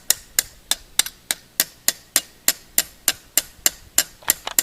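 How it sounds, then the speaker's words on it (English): A hammer strikes a metal tap into a maple tree trunk, about sixteen sharp, evenly spaced knocks in steady rhythm, close and loud with no talking. "you're going to want to hammer in this tap"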